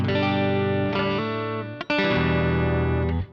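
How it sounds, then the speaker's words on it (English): Clean electric guitar played through a Joyo American Sound amp-simulator pedal straight into a recording, with ringing chords and single notes, a short gap near the middle, and a close, steady, full level with no talking. "And so now the clean sound with the pedal sounds like this."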